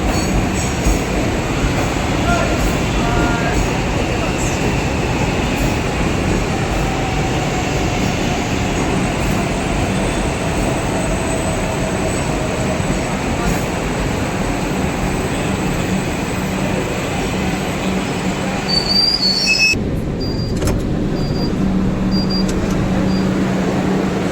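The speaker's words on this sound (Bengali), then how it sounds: "ওই যে দেখো ট্রেনটা আসছে" A metro train rumbles steadily into a station, a loud continuous roar of wheels and motors, ending with faint squeals and beeps as it slows.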